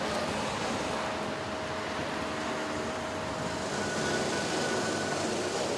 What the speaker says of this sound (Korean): 이곳 전차는 무궤도 전차인 트롤리 버스.